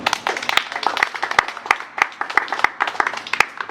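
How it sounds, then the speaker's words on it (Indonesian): Classroom applause during a school hydroponic vegetable-growing lesson: a small group clapping in quick, uneven bursts with sharp distinct claps, close and moderately loud, without voices on top. "Tepuk tangan."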